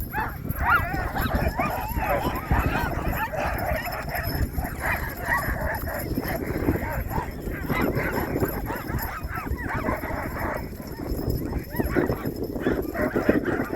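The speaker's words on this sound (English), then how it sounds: "I did go dog sledding" A sled dog team pulling on a dogsledding trip in Spitsbergen, with constant rustling and running noise and dogs barking and yipping now and then, all heard close and fairly loud.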